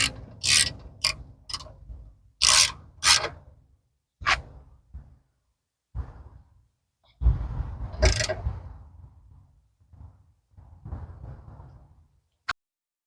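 Hand tightening an AC line fitting on a Honda Civic during an O-ring repair produces a sequence of close metallic clicks, scrapes and rattles in short separated bursts, with quiet gaps between them.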